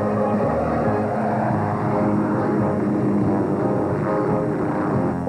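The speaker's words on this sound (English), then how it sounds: "Feel the surge of adrenaline as you pilot a jet helicopter." A radio-controlled jet helicopter flies with a continuous loud turbine and rotor drone, steady throughout with no voices.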